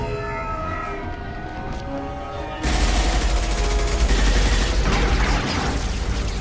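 Gunfire in the video game Mass Effect, a sudden loud burst of dense, sustained shooting that erupts after a humming, tonal stretch and continues heavily to the end.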